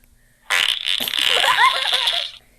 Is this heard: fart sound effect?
yes